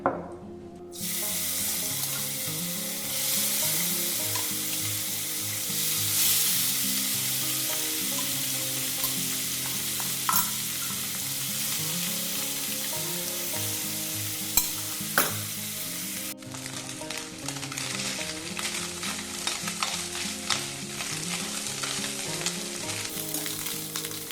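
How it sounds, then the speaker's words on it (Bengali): Small fish fry in mustard oil with turmeric and salt, a loud, continuous close sizzle with crackles and occasional sharp pops and stirring clinks that runs unbroken for over twenty seconds, no voices. "ভাজা করে নিতে হবে এখানে সর্ষের তেল দিয়ে দেবো তেলের মধ্যে দিয়ে দেবো একটু হলুদ আর একটু নুন দিয়ে দেবো"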